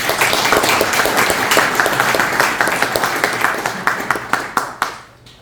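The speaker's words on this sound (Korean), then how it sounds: "한번 박수 쳐주시겠습니다" Audience applause at a book launch for a history book, a loud burst of many hands clapping close by that stays dense, then thins into scattered claps and dies out within a few seconds.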